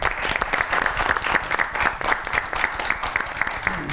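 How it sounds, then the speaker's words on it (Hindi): An audience at a comedy talk show claps steadily, the dense patter holding at moderate loudness with a faint rhythmic pulse running through it. "टीपू सर, टीपू के लिए ताली मारे।"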